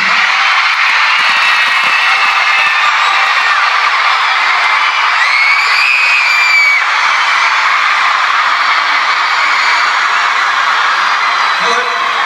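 A big, loud concert crowd at a show cheers and roars nonstop in a dense, sustained wall of voices and whoops.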